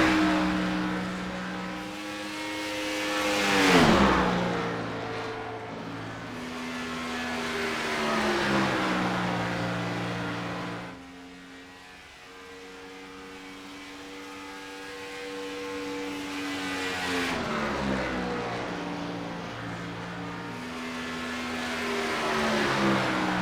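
NASCAR Gen 4 stock car in iRacing at Kansas, engine revving loudly and steadily with rising and falling harmonic pitch sweeps, a sharp surge near four seconds, a dip around eleven, then climbing again, no talk.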